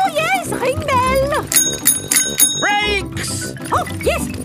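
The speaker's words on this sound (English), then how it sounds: "Ring your bell." A bicycle bell rings several times in a children's cartoon as young pigs ride bikes with a police officer, mixed with cheerful cartoon voices and playful sounds.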